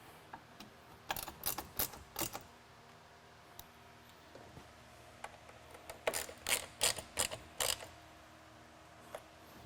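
Fasteners tightened on Molle side panels of a Ford Bronco 4-door hardtop, quiet clusters of quick ratcheting clicks in two bursts separated by a pause, close and crisp.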